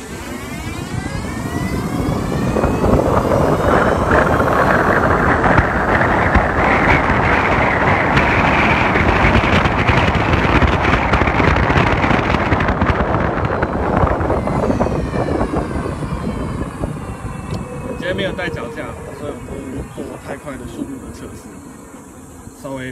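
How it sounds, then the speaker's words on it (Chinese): A Gogoro electric scooter accelerates from a standstill to about 80 km/h, a loud rushing wind roar with a rising whine that swells, holds, then fades as it slows near the end. "现在来看一下 GoGoLo 的加速，就是到底有多快"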